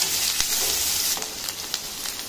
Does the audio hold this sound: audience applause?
no